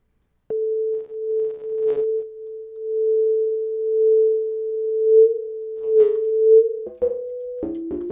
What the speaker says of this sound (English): you get some strange results from the flanger